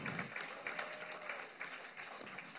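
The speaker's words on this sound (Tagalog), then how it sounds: "Yung mas malakas pa pong palakpak." Congregation clapping during a church service, a steady dense patter of applause filling the room at moderate volume, with cheering voices faintly mixed in.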